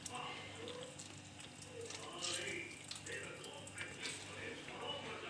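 Sliced bitter gourd being washed and squeezed by hand in water, faint splashing and dripping sounds with someone talking over them.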